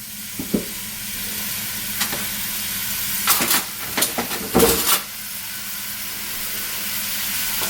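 Squash, lentils and chickpeas simmering in a soup pot give a steady faint sizzle, broken by a few brief stirring scrapes and clinks near the middle, with no talking.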